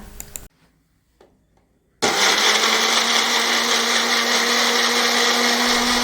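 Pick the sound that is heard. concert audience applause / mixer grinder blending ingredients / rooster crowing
mixer grinder blending ingredients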